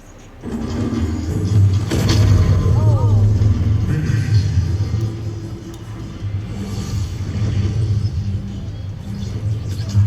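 An explosion in a Mortal Kombat 1 game trailer bursts in with a loud, deep rumble after a brief quiet start, then rolls on for several seconds with voices faintly mixed in.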